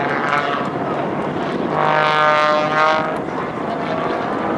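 A Pitts S2B aerobatic biplane's propeller engine drones steadily through a torque roll at an airshow, swelling briefly louder mid-pass over a constant distant roar.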